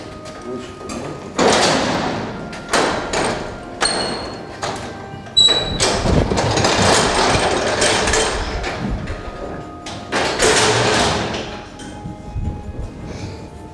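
A circuit breaker cart is rolled out of switchgear cell 26 into the control corridor, giving a series of loud metallic thumps, clunks and rattles over about fourteen seconds, with a faint voice now and then.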